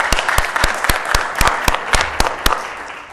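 Audience applause at the NASDAQ Stock Market closing bell ceremony during the Israel Dealmakers Summit 2013: a steady, dense wash of clapping with sharp, rhythmic louder claps punching through about every quarter second, close and loud throughout.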